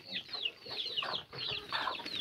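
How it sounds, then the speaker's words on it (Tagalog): Chickens on a small farm keep up a run of clucks and higher squawking calls, repeated in quick irregular bursts at moderate level with no talking. "Ay grabe ang mga manok ko."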